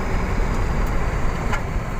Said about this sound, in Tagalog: Puro truck po dumadaan dito.